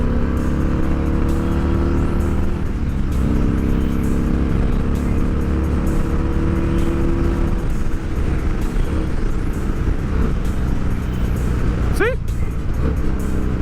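Motorcycle with a Danmoto two-into-one exhaust revving hard to high RPM, a loud, steady, buzzing engine roar with rising and falling pitch sweeps, close and continuous throughout.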